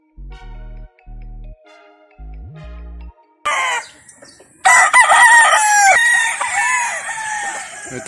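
A gamefowl rooster at a stag-selling gamefarm crows loudly and close by after a few seconds of electronic tones, with clucking and other fowl sounds mixed in.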